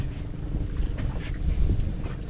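Wind blowing at sea near a boat, a steady low buffeting roar with gusty rises and falls across the microphone, continuous and fairly loud, no talking.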